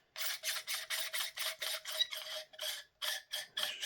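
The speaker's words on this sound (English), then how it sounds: "I believe this screws on to the flash hider" A metal airsoft suppressor is threaded onto the flash hider of a gas blowback rifle, giving a series of about a dozen quick, close scraping rasps in a steady rhythm.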